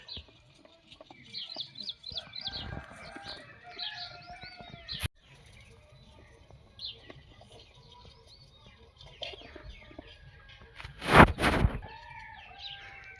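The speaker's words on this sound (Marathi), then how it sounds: "कोंबड्याचा आवाज पक्ष्यांचा आवाज" Small birds chirp and tweet intermittently at a distance, with a rooster crowing loudly near the end and faint rustling between calls.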